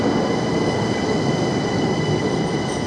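A train passes through Brussels-South station in a steady, loud, continuous rumble of wheels and carriages with a faint squeal, filling the whole stretch without pause.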